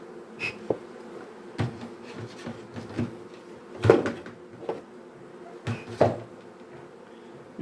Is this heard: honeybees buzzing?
yes